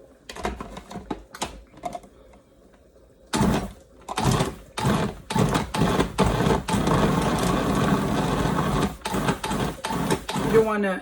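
Food processor pulsing salt and butter for a sweet potato pie crust, a series of short loud whirring bursts separated by pauses, running longer toward the end, with a person talking in between.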